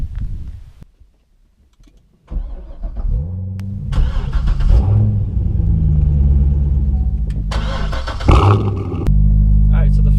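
A Chevrolet C6 Corvette engine cranks and starts after a moment of near quiet, then settles into a loud, steady, deep rumbling idle and pulls away with a brief rev as it drives off, heard close.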